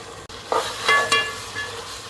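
Ginger garlic paste and green chili paste fry in a pan with onions and spices for biryani. A soft sizzle sits under brief scraping stirs and a couple of light metallic clinks, close and moderately loud, with no talking.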